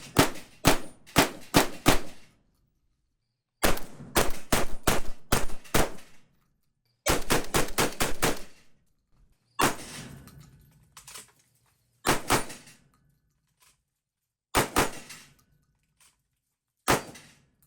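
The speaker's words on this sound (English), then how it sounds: "Shooting pretty soft for an inertia gun." A Mac 2 Agency Tradesman inertia shotgun fires Federal Top Gun shells outdoors in loud, sharp bursts, several shots close together, then pauses between groups of one to four blasts.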